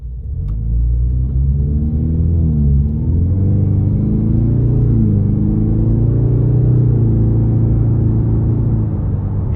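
A 2026 Ford Mustang 2.3 EcoBoost with active performance exhaust drones steadily from inside the cabin, a loud continuous engine rumble with a slight rise and dip in pitch as it pulls.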